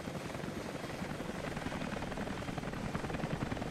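A helicopter flies overhead in the video game Rise of the Tomb Raider, its steady, loud rotor thrum continuing without a break across the whole stretch and no talk over it.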